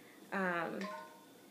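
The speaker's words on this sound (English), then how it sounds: "that's my phone." A mobile phone gives a short electronic notification chime, two bright tonal notes in quick succession close by, then a brief fading tail in a quiet room.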